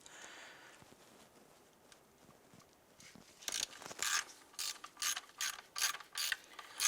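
A ratchet clicks as it loosens a 10mm bolt on the intake of a 2011-2019 Ford Fiesta engine, starting with faint light ticks and then giving about eight loud, evenly spaced clicking bursts close to the microphone.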